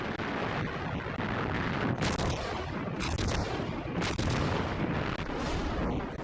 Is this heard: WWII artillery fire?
yes